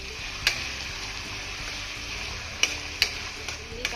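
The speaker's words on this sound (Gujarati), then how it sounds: "ઓનિયન નાખીશું, અને થોડીક વાર પકાવશું" Onions fry for fried rice, a quiet, steady sizzle in a pan with occasional sharp spatula taps and scraping as they are stirred, close by and without talking.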